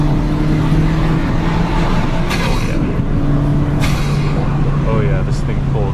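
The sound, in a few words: 2023 Honda Civic Si engine accelerating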